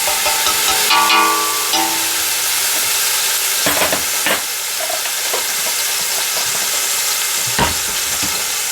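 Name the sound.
onion and minced garlic frying in a pan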